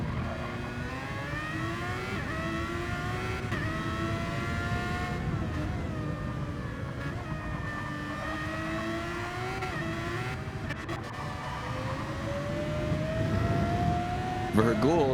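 Race car engines at a Brands Hatch race, droning and rising steadily in pitch as cars accelerate, loud and continuous under ongoing commentary talk.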